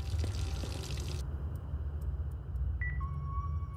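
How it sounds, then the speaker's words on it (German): Running water tap in the ghost-hunting game Ghost Exile, a steady pouring hiss with a low rumbling hum beneath, followed by a couple of short electronic tones near the end. "ist Wasserhahn an."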